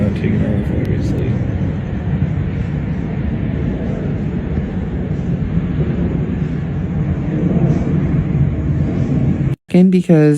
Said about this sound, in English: There's a plane in the foreground taking off